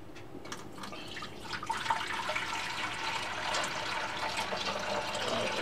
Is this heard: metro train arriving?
no